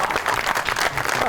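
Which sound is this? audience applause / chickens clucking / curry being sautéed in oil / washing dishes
audience applause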